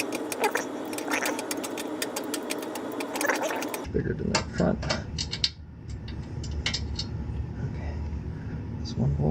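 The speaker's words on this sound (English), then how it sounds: "Might be able to hit it up with a regular ratchet." A ratchet clicking on tight rear brake caliper bolts of a Mitsubishi Galant VR4 during a brake upgrade, a rapid ratcheting burst followed by sparser clicks and clunks, with people talking throughout.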